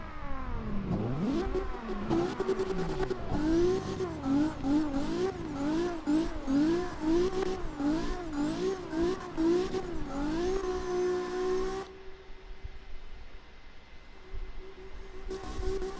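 A Nissan S13 engine in CarX Drift Racing revs up and down repeatedly in a rising-and-falling pattern through quick gear changes, loud and close. It drops to a quieter idle near the end.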